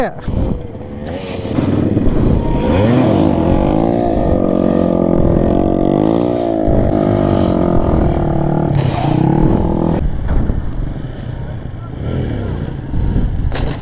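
Small motorcycle engine, a CT 100 or 200 cc NS, revved with rising and falling throttle during wheelie practice, steady and close, with someone talking over it.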